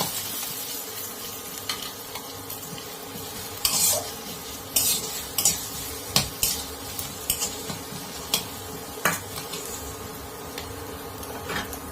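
Dried and green chillies frying in oil in a pan for palak paneer, stirred with a utensil: a continuous soft sizzle broken by repeated close scrapes and clinks against the pan, no voices.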